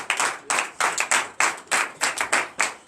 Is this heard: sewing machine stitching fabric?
no